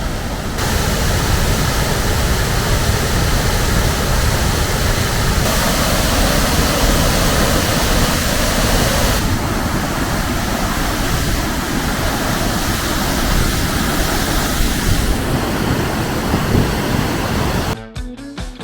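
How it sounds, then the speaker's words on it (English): Great Falls of Tinker Creek in Cuyahoga Valley National Park, Ohio, rushes as a raging torrent after spring rain, a loud, close, unbroken roar of falling water that holds steady throughout. "A raging torrent of a waterfall."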